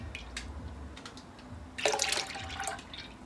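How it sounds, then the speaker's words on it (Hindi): Milk pouring into a cooking pot for vermicelli pudding, a short liquid gush in the middle after some faint splashes and clinks, moderately close. "सबसे पहले हम दूध डालते हैं।"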